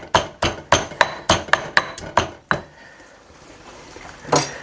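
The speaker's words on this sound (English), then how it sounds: "in the mortar and pestle goes my garlic" Garlic pounded in a mortar and pestle for a Thai tamarind shrimp recipe: about nine sharp, evenly spaced knocks, then a pause and one more strike.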